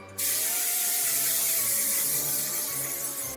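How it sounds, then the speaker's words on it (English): A sudden, continuous hissing spray from a hairspray aerosol can applied to a face during makeup, starting abruptly and held steadily for a few seconds. "we're just going to go ahead and hairspray the face"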